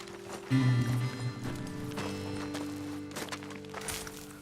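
Horse hooves in Red Dead Redemption 2 as riders dismount near a ledge above a road: a short run of soft clip-clop steps with some rumbling movement, moderately faint, without talk.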